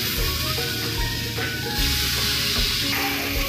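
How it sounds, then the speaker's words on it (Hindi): Spiced boti meat pieces sizzle on a hot tawa, a steady, close frying hiss with small crackles throughout. "अब एक एक करके हम अपने बोटियों को इसके अंदर डालेंगे, अच्छे से मसालों के साथ इसमें डालेंगे।"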